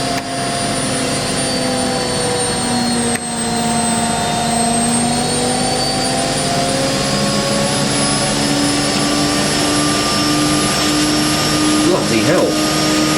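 An Indesit washing machine drum spinning at high speed, a loud, steady whine with rising tones that holds for the whole stretch, close by and continuous.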